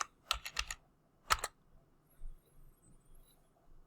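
Three letters are typed on a computer keyboard into a browser search box: a quick cluster of close key clicks, a pause, then one more tap, followed by faint rustling.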